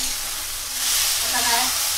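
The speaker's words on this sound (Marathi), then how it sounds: "फक्त डाळ कांदो जरा आणि हळद मिक्स करेपर्यंत ढवळायचा" Chana dal, onion and turmeric are stirred in a hot oil tempering, giving a close, loud sizzle that swells about halfway through as the spoon scrapes and turns the mixture.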